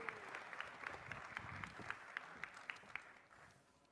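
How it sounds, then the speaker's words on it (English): An audience applauds at a Young Chef Olympiad 2019 event for Professor David Foskett. The clapping is sustained and moderately distant, with sharper individual claps standing out before it fades toward the end. "can we have a big round of applause for Professor Foskett?"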